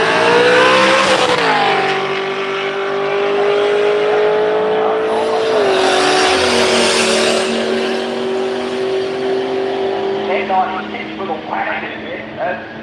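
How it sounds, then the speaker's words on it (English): A Volvo drag car at a street machine drag challenge accelerates hard down the strip, a loud engine roar climbing and then holding, with a commentator talking over it. "The Volvo coming on through with that intense power"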